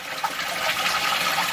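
Water splashes steadily down a koi pond waterfall, a continuous close-up rush with a faint trickling texture and no voices.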